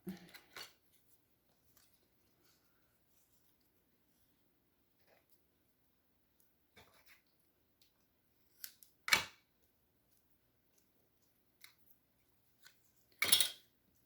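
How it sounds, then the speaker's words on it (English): Scissors snipping red fabric, a few quiet isolated ticks followed by two sharp, crisp snips later on, close and otherwise near-silent. "Now we need this red here again. And again, I need to snip that."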